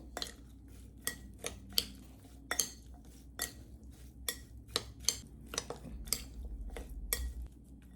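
A spoon clinks and scrapes against a bowl while stirring carrot pickle ingredients with olive oil, a steady run of close metallic taps at an irregular rhythm, quiet and alone.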